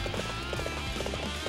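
Horse hooves galloping in the video game Dynasty Warriors 7, a steady rhythmic clip-clop of several quick hoofbeats under a continuous battle-like background din.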